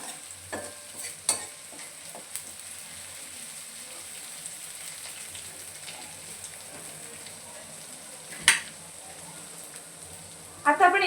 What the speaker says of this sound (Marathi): थोडासा कच्चेपणा जाईपर्यंत आपल्याला छान असा परतून घ्यायचा.